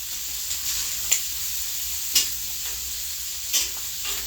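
Salmon cooking on a hot griddle grill, a steady close sizzle with three sharp clicks of a spatula against the metal surface and no talking.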